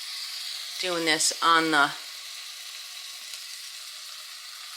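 Zucchini, onions and garlic frying in a pan give a steady, close hiss of sizzling throughout, while a voice speaks briefly over it near the start.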